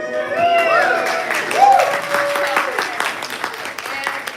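Audience at a live convention panel applauding and cheering, a dense burst of clapping with whoops, the noise swelling midway and then tapering off.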